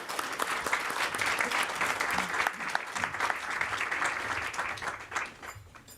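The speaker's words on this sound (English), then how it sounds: "Give a little round of applause." A panel event audience gives steady applause as panelists take their seats, a dense, even wash of clapping that tapers off near the end, with no talking over it.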